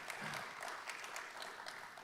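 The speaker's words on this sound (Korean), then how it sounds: "따뜻한 박수 한번 주시면 감사하겠습니다." Audience applause at a Korean business association award ceremony and hall-of-fame induction, a steady wash of clapping across a large hall, held at moderate level throughout without voices.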